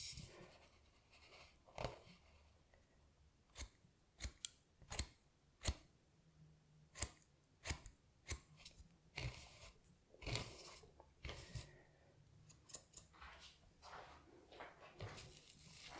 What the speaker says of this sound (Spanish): Cortamos un poquitito más.